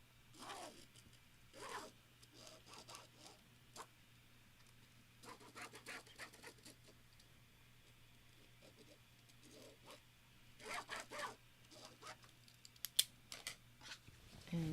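Scissors snip through a quilt template in a quiet room, with scattered soft cuts and rustles of the material, faint and spread over several seconds, with occasional handling noises.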